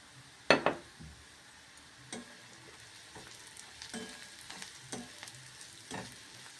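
Sliced onion with turmeric, chilli powder and salt sizzling in a pan while being stirred, opening with a loud metallic scrape of the spoon and then softer, regular scraping strokes over a steady low crackle, no voices.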